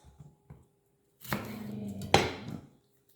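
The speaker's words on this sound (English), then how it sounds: "I'll just cut these in half so you've got nice big bits" A knife cuts vegetables in half on a board while kebabs are prepared, giving a few soft taps followed by two longer, louder cutting strokes, close by with no talk.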